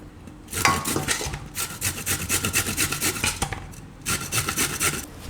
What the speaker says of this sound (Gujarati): તો ગાજર આપણે આખું છીણી લીધું